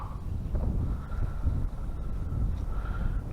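Wind buffets a microphone on a fishing boat, a low, rumbling, gusty roar that stays loud and close for a few seconds.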